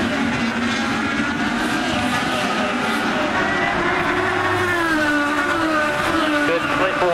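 Race cars at the 2011 IndyCar Honda Grand Prix of St. Petersburg on the 1.8-mile street circuit, engines droning steadily with a rising and falling pitch as cars pass, under crowd and commentary noise.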